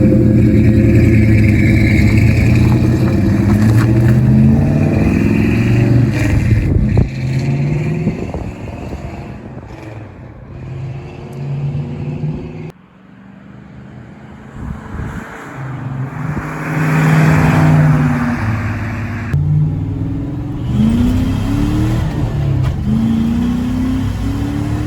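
A Dodge Dakota pickup truck with a swapped V8 engine runs loudly up close, idling and revving with rising and falling engine pitch and a brief dip midway, no voices over it.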